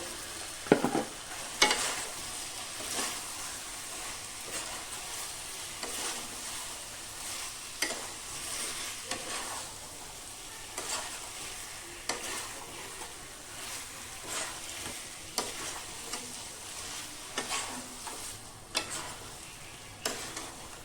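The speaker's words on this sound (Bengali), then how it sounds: "এবারে ভেজে রাখা আলুগুলো এর সাথে দিয়ে আরো কিছুক্ষণ কষিয়ে নেব" Fried potatoes being stir-fried with a cooked spice paste for vegetarian alur dom, a low sizzle broken by repeated spatula scrapes and clanks against the pan at an irregular pace, close and fairly quiet, with no talking.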